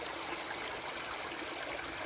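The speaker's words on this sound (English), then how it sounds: "Well, mountain stream of the day." A mountain stream flows below a footbridge on the Appalachian Trail, giving a steady, even rush of water with no voices.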